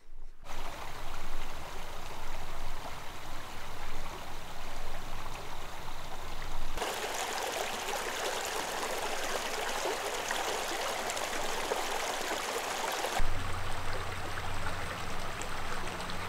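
A small, faint trickle of water runs steadily where fast rapids once flowed beside a dam near Chats Falls, with a continuous soft wash that brightens midway.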